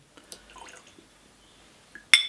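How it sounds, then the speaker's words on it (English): Water is poured into a glass of Ardmore 11-year-old whisky, with faint small drips followed by one short, bright clink of glass at the end in a quiet room. "I'm adding water now."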